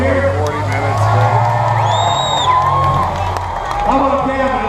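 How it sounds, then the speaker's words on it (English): A fair crowd at a bus demolition derby cheers and whoops steadily throughout, with a loud announcer's voice over a PA rising above the din and a high whistle-like tone briefly in the middle. "Anyone have a cheer for Bill Harbison, number 13 here?"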